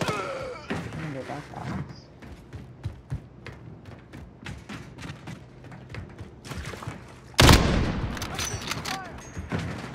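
Rapid gunfire in the Call of Duty Modern Warfare video game, a run of sharp shots and bursts cracking near and far, with one loud close blast late on, while players talk over the action.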